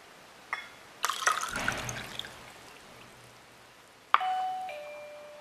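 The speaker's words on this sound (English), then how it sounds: "We have to empty this cup" Water poured out of a cup as part of a water-tank level controller test, a brief splashing pour in the middle followed by a trickle, with electronic doorbell-like chimes sounding before and after; quiet overall, no speech.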